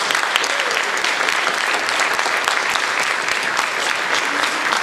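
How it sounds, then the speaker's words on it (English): An audience at a youth jazz camp applauding the kids: dense, loud, steady clapping from many hands, sustained throughout without a break. "I want to have an applause for all the kids for teaching us."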